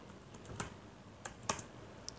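A few sparse, crisp keystrokes on a computer keyboard while entering Python code, close but quiet over a faint steady room hiss, with pauses between clicks.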